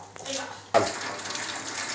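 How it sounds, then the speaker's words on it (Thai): Tap water gushing into a kitchen sink, starting abruptly after a brief clatter and then running steadily and close by in a continuous splashing hiss. "เราเปิดน้ำไว้นิดนึงนะคะ เดี๋ยวท่อมันจะละลายมันร้อน"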